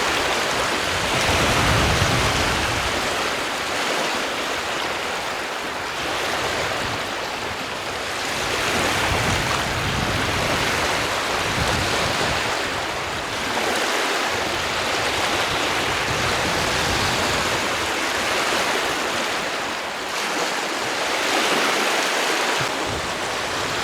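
Water at the shore of Lago de Sanabria in autumn, a steady close wash of small waves lapping with gentle swells in the surf noise, heard alone without voices.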